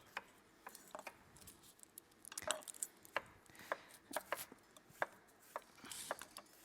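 A kitchen knife chops food into small pieces on a cutting board in a home cook-along, with a quick irregular run of crisp, close taps and no talking.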